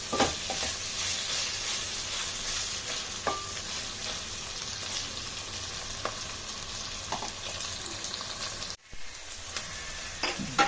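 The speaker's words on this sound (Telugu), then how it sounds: "అల్లం వెల్లిపాయ వేసుకున్న తర్వాత కొంచెం స్టవ్ ఎక్కువ చేసుకొని కొంచెం మంచిగా ఫ్రై కానియాలి" Ginger and garlic fry in a pan over raised heat, giving a steady close sizzle with crackles and occasional stirring scrapes, briefly cut by a short dropout near the end.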